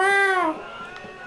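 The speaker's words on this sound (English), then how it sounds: "Look at that cat that has the same sound file if you go near it." A single synthetic-sounding cat meow from the video game The Last Story, with a clear harmonic tone, falling in pitch over about half a second, followed by quiet background.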